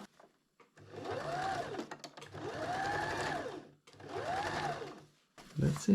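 Sewing machine stitching camping hammock fabric in three sustained close bursts, running forward, back and forward again to lock the thread, with short pauses between them and a brief spoken remark at the end.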